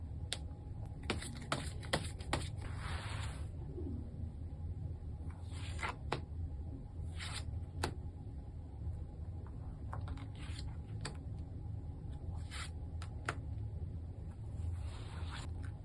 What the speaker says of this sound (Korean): 카드를 한번 뽑아보도록 하겠습니다.